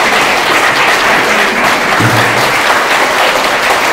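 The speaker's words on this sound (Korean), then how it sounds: "다시 한번 박수 한번 보내주십시오" A hall audience at a traditional culture research society's academic presentation breaks into loud, sustained applause, dense clapping filling the whole stretch without pause.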